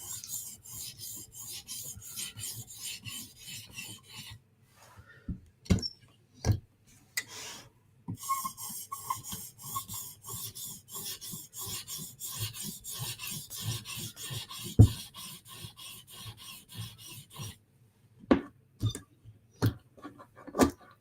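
A Koenig knife worked on a 400 grit whetstone, repeated close rasping strokes in long even runs, broken by brief pauses and a few sharp clicks as the blade is repositioned.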